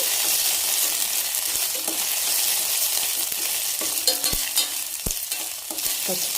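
Ginger garlic paste frying in a pan for a cucumber masala curry, a steady close sizzle with occasional spoon stirs and scrapes throughout.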